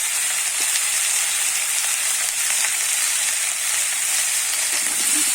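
Potatoes and cauliflower frying in hot oil, a loud, steady sizzle that stays bright and continuous from start to finish with no talking.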